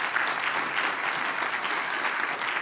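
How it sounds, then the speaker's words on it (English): Big round of applause from a Davos audience for a climate and nature panel, a loud, dense, continuous wash of clapping from a large crowd with no break. "Please join me in a big round of applause for a very inspiring panel."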